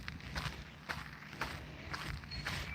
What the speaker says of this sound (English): I just hear my footsteps.